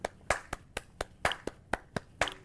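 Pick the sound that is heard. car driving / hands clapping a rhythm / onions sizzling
hands clapping a rhythm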